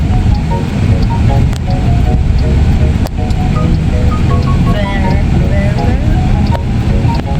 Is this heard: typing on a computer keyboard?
no